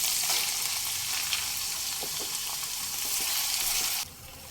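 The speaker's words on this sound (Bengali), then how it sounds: "পেঁয়াজ আদা রসুনের একটু কাঁচা গন্ধটা চলে যাওয়া পর্যন্ত একটু কষিয়ে নিতে হবে" Onion paste with ginger-garlic paste sautéing in a pan over medium flame for an egg korma, giving a steady close sizzle with faint stirring scrapes, alone without talk, then dropping quieter near the end.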